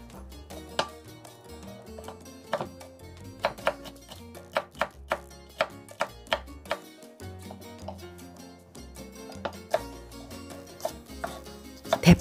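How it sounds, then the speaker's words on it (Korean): A knife chops Cheongyang and red chili peppers steadily on a cutting board in a quick series of sharp taps, with soft music playing underneath. "청양고추와 홍고추도 송송송송 썰어줍니다."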